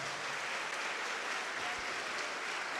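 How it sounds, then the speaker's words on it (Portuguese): A church congregation applauds in a soft, even wash of clapping heard from a distance, steady and faint throughout the short stretch. "vamos aplaudir ao nome de Jesus"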